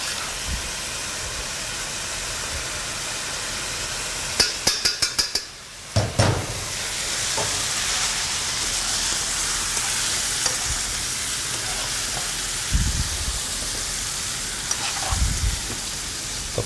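Small pieces of meat for a salad fry in a pan with a steady, close sizzle, joined midway by a brief rattle of utensils against cookware before the crackling frying continues on its own.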